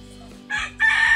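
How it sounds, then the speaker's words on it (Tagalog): A rooster crows in two loud, drawn-out bursts, the second longer and stronger, following a quieter moment; heard outdoors in a Philippine coastal setting with no talking. "Ayun, manok."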